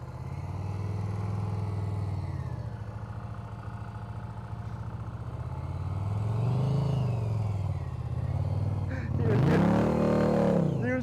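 Motorcycle engine during a riding practice exercise, idling and then revving up with rising pitch, loud and fairly close, with a sharper burst of throttle near the end and voices talking in the background.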